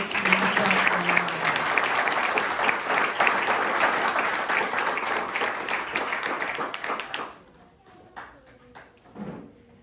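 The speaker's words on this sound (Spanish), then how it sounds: "Podemos darle un fuerte aplauso a nuestro Dios." A church congregation gives a loud round of applause for God, dense clapping for about seven seconds that stops abruptly, followed by a few scattered claps and voices.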